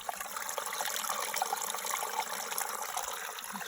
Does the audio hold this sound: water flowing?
yes